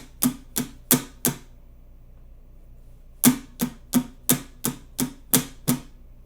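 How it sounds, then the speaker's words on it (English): A guitar is strummed with down strokes only: four quick even strums, a pause, then eight more in a steady rhythm, each a crisp, short, close attack with no voices. "is just 8 down strums, and it's going to sound like this"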